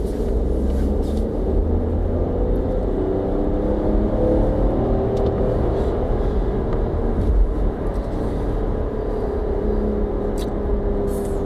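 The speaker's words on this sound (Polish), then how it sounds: "zaraz będziemy testować przyspieszenie w trybie sport" Renault Austral 2024 E-Tech full hybrid with a 1.2 TCe 130 engine accelerating in sport mode, a steady loud engine and road drone heard from inside the cabin, continuous and without talk.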